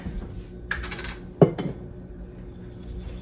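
Garlic cloves being stirred in a pot, a few sparse metallic clinks and scrapes of the utensil against the pan, quiet and close, with a sharper knock midway.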